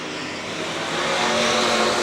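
IMCA modified race cars roar past on the Crystal Motor Speedway oval, a steady, full engine drone that swells slightly as the pack goes by.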